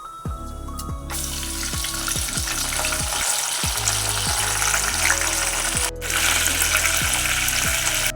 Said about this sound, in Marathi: राई, जिरं, कढीपत्ता असं छान भाजून झालंय बघा